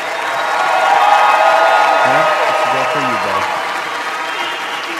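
Loud applause and cheering from a crowd at the NHL Awards, dense continuous clapping with someone speaking briefly over it midway.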